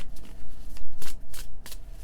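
Tarot cards being shuffled by hand, a close, soft series of quick riffling bursts and papery flutters in an irregular rhythm, heard alone without talk.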